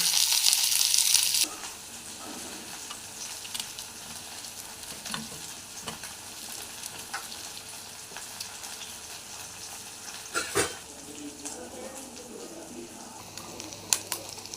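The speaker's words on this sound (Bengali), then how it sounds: "প্রথমে লঙ্কাগুলো আমি ভেজে নেব এইভাবে তারপর ওই তেলেই আমি পেঁয়াজগুলো ভাজব" Chilies frying in hot oil in a home kitchen, a steady soft sizzle with occasional stirring clinks and scrapes; a loud burst of hiss opens it before settling into a quieter continuous crackle.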